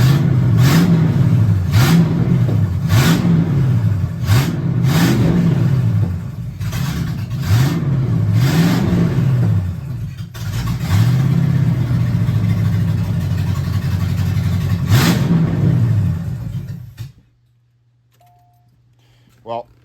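Station wagon engine fresh from a head gasket replacement, revving repeatedly in rising and falling surges over a steady idle, loud and close, then cutting off near the end; a voice speaks over the engine at points.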